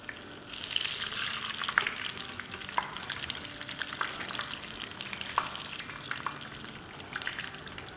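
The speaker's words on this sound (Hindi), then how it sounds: "8 से 10 मिनट तक इसे फ्राई कर लेंगे।" Pakoras frying in oil make a continuous, bubbling sizzle with scattered small pops and crackles, moderately quiet and close, with no one speaking.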